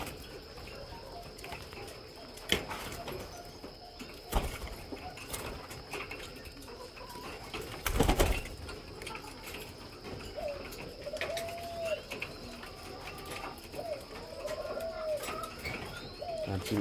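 Doves coo in repeated soft, rounded calls at moderate distance over a constant bed of insect chirping and outdoor hiss, with a few sharp knocks and no talking.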